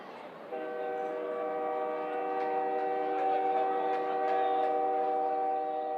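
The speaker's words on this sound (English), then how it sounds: "Train whistle in the background." A train whistle sounds in the background at a DIII baseball championship game, a sustained multi-tone blast holding steady for several seconds after a soft start.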